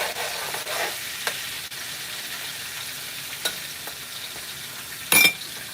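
Red kidney beans and onions sizzle in a pot while being stirred Liberian style, a steady frying hiss with occasional spoon scrapes and a loud clank near the end.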